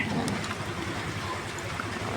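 A motorcycle pushes through flood water in heavy rain in Imus, Cavite, with a soft wash of rain and splashing under a low, steady rumble.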